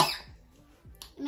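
A woman coughs a few times in short bursts after smelling a grassy-scented beauty product, with a breathy exhale at the start and a quick sharp sound near the end.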